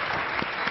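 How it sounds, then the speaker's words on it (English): Brief burst of audience clapping at a Startup Battlefield pitch presentation, a short, steady patter of many hands heard alone. "Big round of applause for them."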